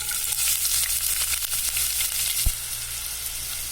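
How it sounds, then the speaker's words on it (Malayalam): Chopped onions sizzle loudly in hot sunflower oil for a chicken curry, a steady close crackle with one sharp knock partway through and no talking. "ഓയിൽ ജസ്റ്റ് ഒന്ന് ചൂടാകുമ്പോൾ നമുക്ക് അതിന് വെച്ചിട്ടുള്ള ഉള്ളി ചേർത്ത് കൊടുക്കാം."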